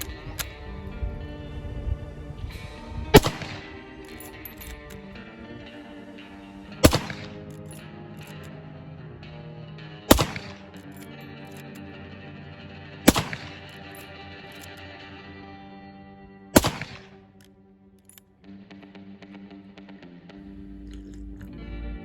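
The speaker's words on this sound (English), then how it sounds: "That's what it sounds like to shoot a Winchester Model 1894." Five sharp, loud rifle shots from a Winchester Model 1894 lever-action ring out a few seconds apart over a quiet, steady musical background, each crack trailing off quickly.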